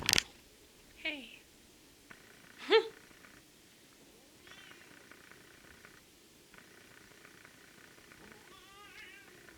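A cat makes a few short, faint meows and chirps, spaced apart with quiet moments between them, close by indoors.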